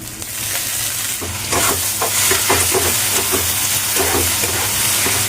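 Ginger, garlic and chopped tomato fry in a pan with a steady close sizzle, while spoon strokes scrape and stir through the mixture, with no voices.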